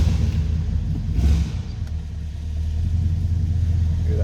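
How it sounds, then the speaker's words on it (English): A 1969 Mercury Marquis convertible with its 429 V8 idling after starting, a steady low rumble close by with a brief lift in revs partway through, no talking. "Hear that 429 fires right up."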